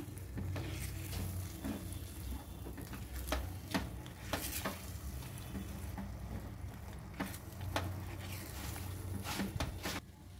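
Semolina shira with cardamom powder stirred in a pan, a soft continuous sizzle broken by repeated scrapes and taps of the spoon against the pan at an uneven pace, close up and quiet, with no voices.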